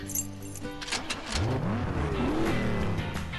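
Race car engines rev and accelerate in Beach Buggy Racing, a kart-style video game on PS4, with rising engine whines over a short burst of game sound effects.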